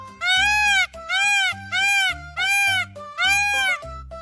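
A peacock gives five loud, wailing calls in a steady series, each drawn-out cry rising and falling before a brief gap.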